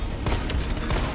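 An enemy fires a weapon in Resident Evil 3, giving two sharp, punchy shots about half a second apart over a low rumbling game backdrop.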